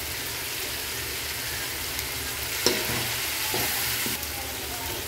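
Garlic and pepper sauté in a pan for Filipino pork pochero, giving off a soft, even sizzle with a few faint clinks and stirring bumps.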